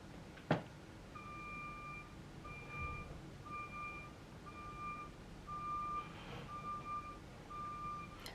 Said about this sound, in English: Somebody backing up in the parking lot.